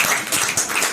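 Applause from the audience at a Hindi poetry gathering (kavya goshthi), a steady wash of many hands clapping, fairly close and continuous through the short moment, with no talk over it.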